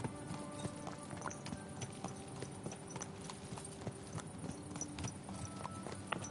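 Horse hooves clip-clop at a steady walking pace in the video game Kingdom Come: Deliverance 2, soft and somewhat distant, with a faint background hum.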